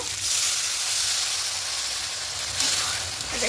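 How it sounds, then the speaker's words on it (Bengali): Water poured onto hot spice paste in a pan for malai potol, producing a loud, steady, close sizzling hiss that swells and stays continuous throughout. "সেই মশলা পেস্টে জলটা দিয়ে দেব।"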